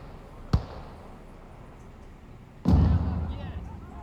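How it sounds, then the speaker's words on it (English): Grenades exploding in the WWII strategy game Gates of Hell: Ostfront, one sharp blast early on and a second, heavier boom with a long rumbling tail, with a voice talking over the battle. "So we got grenades going out."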